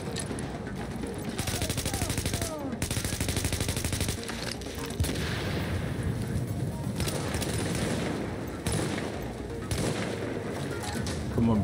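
Rapid gunfire bursts from The Division on Xbox Series X, set in the Hudson Refugee Camp, crackling in repeated volleys over a dense combat soundscape with someone talking intermittently.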